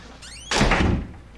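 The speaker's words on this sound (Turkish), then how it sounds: "O kapıyı kapatıyor." A door slamming shut in the Outlast horror game, a single loud heavy thunk preceded by a faint creaking whine and followed by a short fading rumble.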